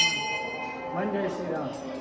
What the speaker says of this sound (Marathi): घंटी वाजवायची जोरात